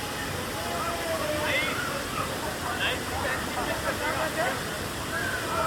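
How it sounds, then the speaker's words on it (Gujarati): A waterfall at Neel water park in Rishikesh pours down from a height in a constant rushing roar, with people talking over it. "આટલો ઉપરથી ધોધ પડે છે."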